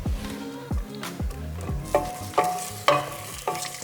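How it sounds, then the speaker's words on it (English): Zucchini frying in a pan over fairly high heat for chicken and risoni soup, with a steady sizzle broken by several sharp stirring scrapes and clunks, close and fairly quiet. "Just when you're frying them in here,"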